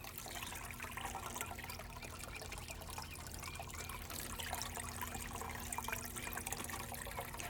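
Water flows steadily into a small patio water garden, a soft continuous trickle and splash with no voices.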